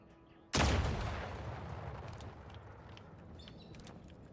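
Gunfire in The Outer Worlds 2 video game: a sudden loud burst of shots followed by a long, echoing decay of noisy rumble that slowly fades, with faint higher clicks trailing behind.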